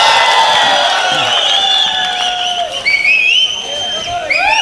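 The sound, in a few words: audience applause and whistling at a mushaira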